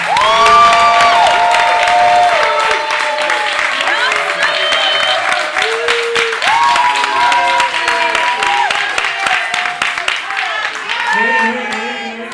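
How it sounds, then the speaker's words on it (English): An arena audience gives a quick round of applause with cheering during a March Madness event, loud dense clapping that swells then fades under talk and a few shouts. "Can we get one quick round of applause?"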